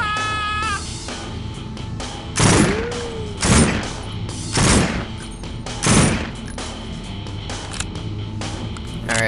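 Four loud gunshot bursts crack out at intervals of roughly a second during a SWAT 4 co-op police raid, each sharp blast standing out over a steady background hum.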